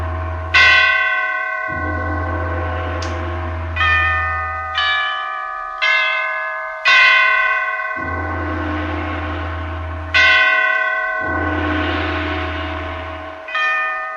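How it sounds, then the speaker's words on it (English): The great church bells of St. Petersburg toll a requiem, loud and close: a series of heavy, ringing strikes every second or two, each with a long resonant hum decaying beneath, alone without voices. "the great bells of St. Petersburg tolled their requiem"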